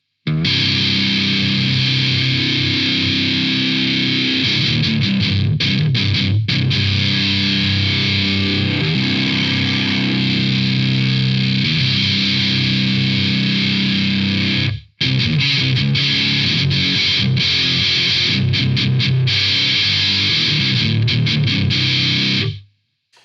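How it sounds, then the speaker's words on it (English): Heavily distorted electric guitar run through an effects unit, a dense, saturated tone with sustained chords and riffs that plays loudly throughout, stopping abruptly once before resuming, then cutting out at the end. "In a nice distortion."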